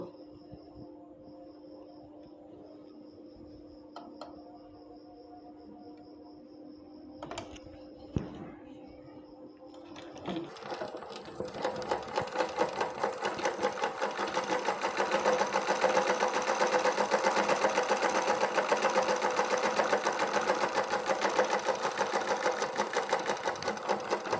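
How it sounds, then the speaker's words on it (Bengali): A sewing machine stitches two pieces of fabric together for baby pajamas: after a few quiet clicks and adjustments, a loud, steady rapid mechanical whirr runs continuously for the second half, with a voice talking early on. "এখন এইখান থেকে আমি এই পর্যন্ত কাপড়টিকে এইভাবে সেলাই করে নিয়ে আসব।"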